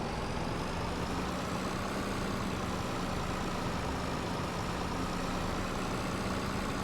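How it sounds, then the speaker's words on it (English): An old tractor engine runs in a farming video game, a loud continuous low diesel drone with a steady hum that stays level the whole time, with no one talking. "I don't really dare loading more than 2 onto this tractor. It's an old one."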